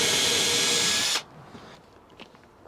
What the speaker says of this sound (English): So now I'll go ahead and make my pilot holes.